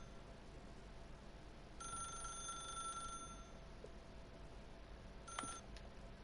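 Telephone ringing in the video game The Stanley Parable, a faint bright electronic trill heard in one sustained ring then a short burst later, over a quiet low hum.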